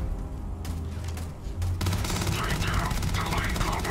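Gunfire from a weapon in the video game Starfield, a dense continuous spray of shots through the second half, loud and busy with blasts layered over it.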